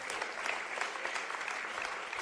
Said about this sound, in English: Round of applause from the home crowd